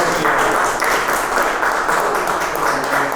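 An audience claps for guest writer Dante at a monthly literary session, a dense, continuous roomful of applause holding steady and fairly loud for the whole stretch.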